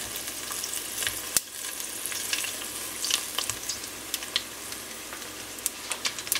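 Apple wontons frying in a pan of hot oil, a steady close sizzle and crackle with scattered sharp pops throughout, no talking.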